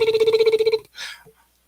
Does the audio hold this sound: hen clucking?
no